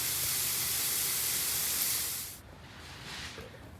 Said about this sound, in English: The sound of freezing rain hitting the Quonset.